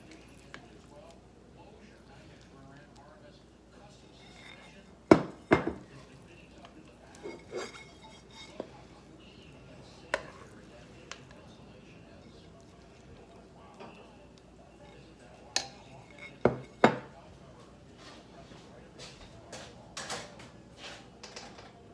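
Meatless chili is scooped into a bowl, with scattered sharp clinks and knocks of a utensil against dishes spread over the stretch, fairly quiet between hits, while people talk throughout.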